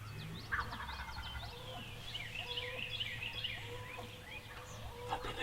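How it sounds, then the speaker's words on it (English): A wild turkey gobbler sounds faintly from a Kentucky hillside at morning, amid scattered birdsong and steady low background noise, with no talk. "That Gobbler's coming down that hill."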